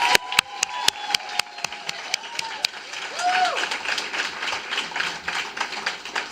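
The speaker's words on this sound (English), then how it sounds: "Let's give them the final round of applause." An audience applauds the winning school at a schools challenge winners' announcement, with a few sharp early claps swelling into a steady crowd clapping and some cheering and whistles.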